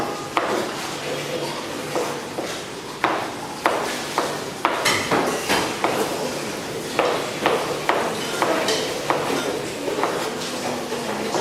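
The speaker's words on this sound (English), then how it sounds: "After, I will start chopping my chips with 2 fingers." Repeated knife chops through raw potato on a cutting board while cutting chips by hand, sharp evenly spaced thuds and clacks close up, about two per second, with no talking.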